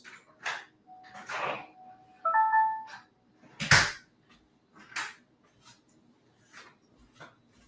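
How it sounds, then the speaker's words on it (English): A home security system gives a short electronic two-tone chime as a door or window opens inside a house, heard between scattered clicks, thumps and rustling handling noise indoors. "This is the sound of anything opening in my house."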